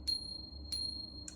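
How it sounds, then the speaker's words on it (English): Tiny bells ring in three quick, bright chimes spaced about half a second apart, each leaving a short clear ring that fades. They are close and fairly soft over a quiet room with no talking. "If I get tiny bells somehow"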